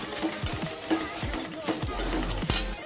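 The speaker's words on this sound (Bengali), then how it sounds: "শুকনো লঙ্কাটা খুব ভালোভাবে ভেজে নিচ্ছি।" Four dry red chillies fry in hot oil in a pan with a soft, steady sizzle, broken by rhythmic scraping strokes of a spatula stirring them; no talking.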